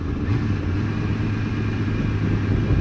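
A 1998 Suzuki GSX-R 750 SRAD inline-four motorcycle climbs a steep hill, its engine a steady droning rumble with wind noise, heard from on the bike throughout.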